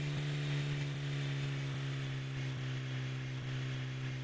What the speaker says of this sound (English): I have a helicopter. Fight me.